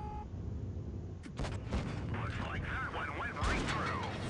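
Tank gunfire in World of Tanks Blitz, with a few sharp booming shots and impacts over a rumbling battle background while a voice talks at moderate distance.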